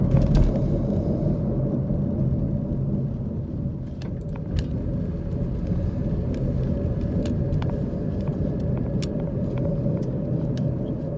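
A car drives through the older downtown streets of Oliver Springs, Tennessee, near Windrock mountain. A steady, loud in-cabin road rumble and engine drone run unbroken throughout, with no talking.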